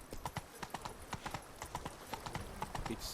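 Roach the horse gallops in The Witcher 3: Blood and Wine, a quick steady clip-clop of hooves, close and clear, with a brief snort near the end.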